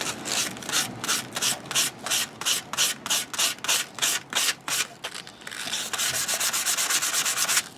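A knife blade sanded by hand with 400 grit paper: about a dozen even, rhythmic rasping strokes up close, then a faster continuous scrubbing run, with no talking.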